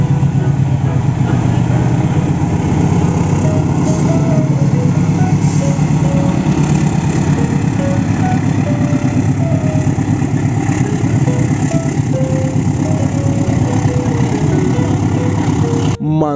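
A Rail King toy model of the twin-cab CC206 locomotive runs with a continuous buzzing motor drone and repeated tonal whines, steady and close throughout, ending in a brief sharp sweep.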